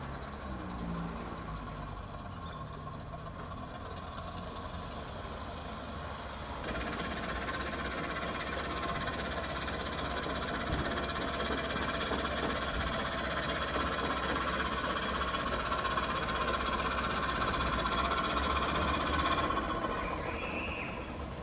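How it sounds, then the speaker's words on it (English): A 4-inch scale Garrett Showman's model steam engine on a live steam test run, giving a steady mechanical chuffing and hiss that grows louder and fuller after the first few seconds and holds constant, with no talk. "A test run of a 4-inch scale Garrett Showman's engine."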